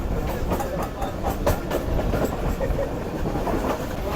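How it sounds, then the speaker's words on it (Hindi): The Karakoram Express rolls toward Kotri bridge with a continuous loud rumble and rhythmic clickety-clack of wheels over the rails. "हमारी ट्रेन ये पहुंच चुकी है कोटरी ब्रिज पर जो कि डाउन ट्रेन के लिए है"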